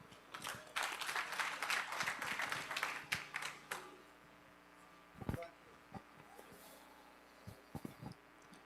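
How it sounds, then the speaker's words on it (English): Applause from an audience at a Lions Club installation ceremony, a dense burst of hand clapping for about four seconds that thins to a few scattered claps. "Can we give him another hand clap?"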